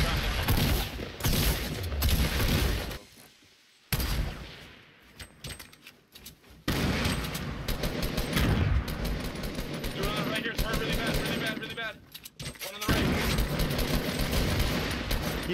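Dense automatic gunfire and explosions from the video game Fortnite play almost continuously, loud and close, with brief lulls and people talking over the action.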